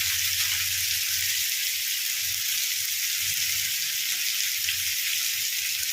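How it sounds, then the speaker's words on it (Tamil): Fish frying on a hot tawa, a steady, even sizzle of oil throughout with a low hum underneath, no voices. "மீன் நல்லா ஃப்ரை ஆகிட்டுருக்கு."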